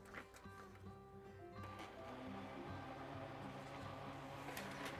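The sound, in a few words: printer struggling while printing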